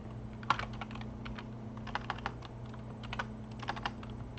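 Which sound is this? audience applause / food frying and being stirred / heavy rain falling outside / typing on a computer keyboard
typing on a computer keyboard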